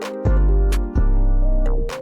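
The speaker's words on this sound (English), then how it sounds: "I just grabbed this little snare that sounds like this, and I just put it on some of these offbeats right here" A short snare hit lands on the offbeats of a pluggnb beat, sitting over heavy 808 bass and bright synth chords, with sharp snappy bursts roughly every second across the loop.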